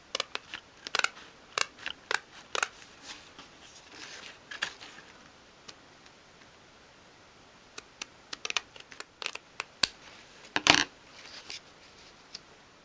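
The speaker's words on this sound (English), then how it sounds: "So trim around the rug." Small scissors snip around the edge of a 1/12 scale dolls house rug, a series of crisp, close clicks and cuts in uneven bursts with short pauses between them.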